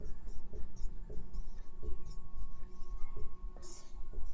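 Chalk or marker strokes on a classroom board during a Hindi-medium class 10 physics lesson on reflection of light, giving a steady run of short scratchy taps close to the mic with faint room noise underneath.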